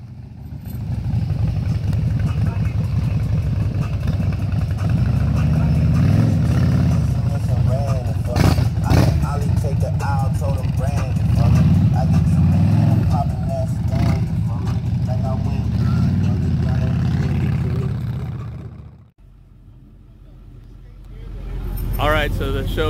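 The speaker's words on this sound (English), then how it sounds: "So the show's over, everybody started their cars and they're leaving." Several car engines run loudly and steadily with a rumbling low drone, rising in places as they rev, then cut off abruptly before idling resumes quieter, as cars leave a car show.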